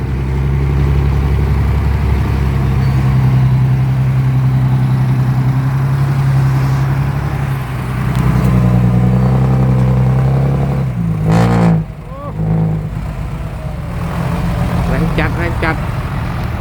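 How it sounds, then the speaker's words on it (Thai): Two tractors work at an irrigation dredging site, heavy diesel engines idling and revving loud and close with clattering and a shift in pitch midway, while someone talks over them. "นี้หน้างานใช้รถไถสองคันนะ"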